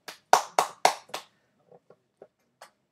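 A lone person claps five sharp, loud beats in quick succession, then adds a few softer, scattered claps after a pause, close and dry in a quiet room.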